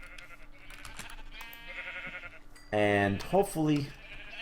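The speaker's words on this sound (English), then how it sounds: "selectively kill some sheep" Sheep in a blocky sandbox video game bleat loudly twice in quick succession, wavering cries rising out of steady game background noise, with someone talking just before them.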